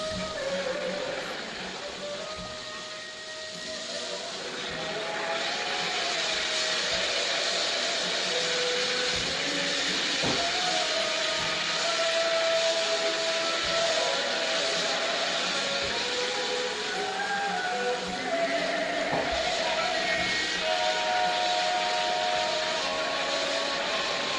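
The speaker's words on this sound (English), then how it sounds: "It erupts up to 20 times a day, sending blasting jets of smelly sulfurous steam and dirt up to 100 feet" A Rotorua geyser blasts smelly sulfurous steam and dirt skyward, a loud continuous roaring hiss that swells early and holds steady, with faint tonal whistles and distant crowd sounds underneath.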